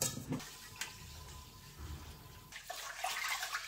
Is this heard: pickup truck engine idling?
no